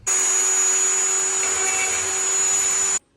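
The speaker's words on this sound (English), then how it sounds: "I'm using a Dremel with a flat grinding disc on it." A Dremel rotary tool fitted with a flat grinding stone grinds an Audi A3 daytime running light lens, giving a steady, loud, high-pitched whine with a constant tone that runs unbroken for about three seconds before stopping abruptly.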